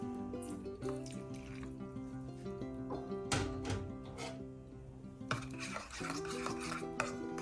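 A spoon stirs homemade ground pepper into hot water in a bowl, clinking and scraping against the sides in quick irregular strokes with small liquid swishes, close and fairly quiet, with no talking.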